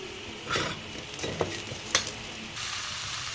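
Onions frying with dried red chillies in a pan for a Karnataka greens bassaru, a steady close sizzle throughout with a few sharp spoon scrapes and clinks against the pan.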